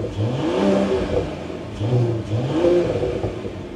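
A Mercedes-AMG CLE 53 engine revs through its active exhaust in repeated rising and falling surges, a deep, close, loud drone with light clatter.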